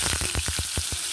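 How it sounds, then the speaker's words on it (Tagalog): Potatoes and barbecue sausage hotdogs fry in hot oil, giving a close, steady hiss of sizzling with a quick, regular run of crackling pops. "I-fry natin naman siya."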